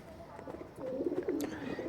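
Pigeons coo softly in low, murmuring phrases, building up in the second half of the clip, with a bird or two calling close by.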